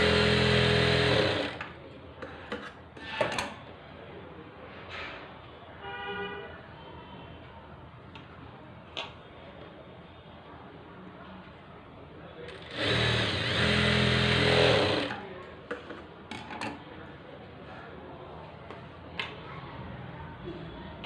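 A sewing machine stitches blouse fabric with its lining, running in two loud buzzing bursts of a second or two each, with quieter handling noises and brief taps in between.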